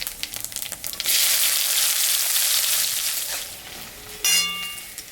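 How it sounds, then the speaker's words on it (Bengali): Chopped onion hits hot oil already tempered with dried red chilli and panch phoron, setting off a loud, steady sizzle after about a second that runs on, with a brief clatter near the end and no talking. "কাটা পেঁয়াজটা দিয়ে দিচ্ছি।"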